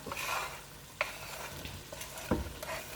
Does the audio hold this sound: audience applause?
no